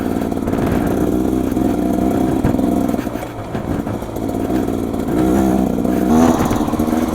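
A Beta two-stroke dirt bike engine droning loud and close while being ridden, its buzzing note rising and falling with the throttle and no speech over it.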